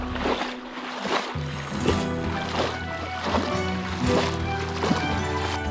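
Running water flows steadily in a shallow stream, a continuous close wash with gurgling bursts throughout and a brief voice in the background.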